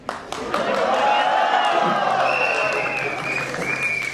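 A crowd at a Mind Rocks gathering in Guwahati cheers and applauds, a broad sustained roar of clapping and voices that fills the room and holds steady from start to finish.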